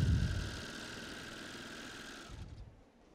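A Baby Lock serger overlocking organza at a sewing show, a close, steady mechanical whir with a faint tonal hum that runs evenly for about two seconds and then stops, leaving near quiet.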